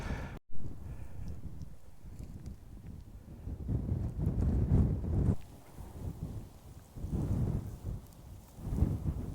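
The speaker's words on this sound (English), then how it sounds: "And we've got a bit of a wind" Wind buffets the microphone on an open grassy hillside during a hike, low rumbling gusts that rise and fall throughout with no voices.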